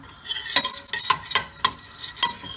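Garlic is stirred in a hot pan for chicken pesto pasta, about five distinct scraping strokes close up in a steady rhythm over a faint sizzle, with no talking.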